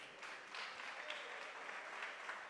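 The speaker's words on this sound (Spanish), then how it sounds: "Dale un aplauso a Cristo." A church congregation claps together in a steady, dense patter that fills the space at a moderate, somewhat distant level, with no voices standing out.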